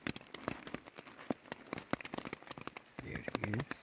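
Rain falling at a campsite in Bijela Canyon near Mostar, Bosnia & Herzegovina, a faint patter of scattered drops tapping on a nearby surface, with a voice speaking briefly near the end.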